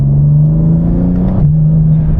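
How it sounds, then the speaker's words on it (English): A BMW M2 G87 with Eventuri intakes and exhaust hums at a steady, loud close drone, its pitch stepping down slightly near the end, with no talking over it. "I hear all my Eventuri intakes. I hear like the exhaust happening. It's not too crazy."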